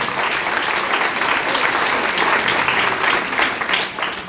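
A crowd applauds steadily at a school hall of fame ceremony, a dense, even wash of clapping that holds for about four seconds, close and loud with no talking.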